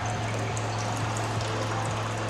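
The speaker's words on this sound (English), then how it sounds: "So I'm going to add some water" Water pours steadily into a cooking pot to pre-boil ofada rice, a continuous close-up splashing and gurgling with a low hum in the background.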